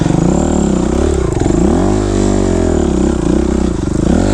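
Loud, close engine of a 2005 Kawasaki KX 250F dirt bike churning through mud, a steady raspy drone with constant rumble and fluctuating revs, no talk.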